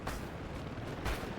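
In the video game Delta Force, heavy explosions sound out, with a loud booming blast at the start and a second deep, rumbling burst about a second later over a continuous roar.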